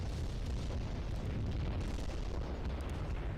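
Video game airstrike explosions land as a continuous, heavy wall of deep rumbling booms and bursts, loud and close, with no pause across the few seconds.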